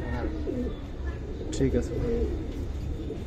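Pigeons of old breeds coo softly at a market collection, low murmuring calls under a man's speech and background bustle.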